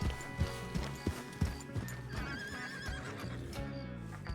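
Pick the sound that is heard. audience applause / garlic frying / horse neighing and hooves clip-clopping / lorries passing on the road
horse neighing and hooves clip-clopping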